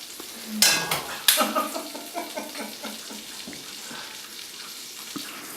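Eggs cracked into a hot pan for an omelette, sizzling and crackling with a couple of sharp clatters near the start, then steady frying that fades down, close and fairly loud.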